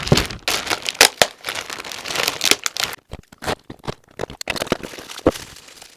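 Vape mail is unboxed with bursts of crinkling, tearing and crunching of packaging, close and loud, in uneven handfuls with short pauses between them.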